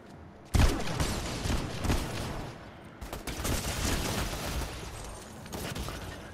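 Dense, sustained bursts of heavy gunfire in a Fortnite no-build duos match, opening with a sharp loud blast and continuing as overlapping rapid shots over several seconds.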